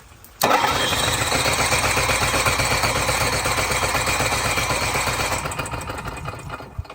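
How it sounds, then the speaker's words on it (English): A generator engine running loudly and steadily after an abrupt start, with a dense, rhythmic mechanical chug and whine that holds for several seconds before tapering slightly, heard outdoors with no talk. "can you hear that this pump is louder than the last one?"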